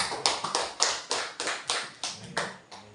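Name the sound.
audience clapping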